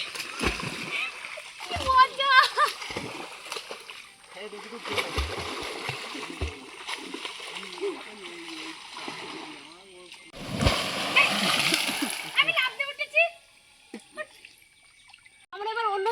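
Several people bathe together in a Sundarbans river, their bodies churning the water into repeated close splashes, with one louder, sustained burst of splashing midway. Voices talk and call out over the water throughout.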